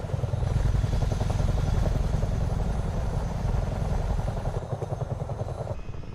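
Chinook helicopters in Microsoft Flight Simulator 2024 cruising at speed, a steady rhythmic rotor thudding over a deep engine drone, loud and unbroken throughout.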